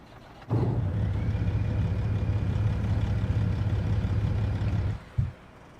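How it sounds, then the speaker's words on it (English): A heavy truck engine in American Truck Simulator cranks over and settles into a steady, loud low-pitched idle rumble for several seconds, then cuts off with a brief final thump. "I love that engine startup routine. Listen to that."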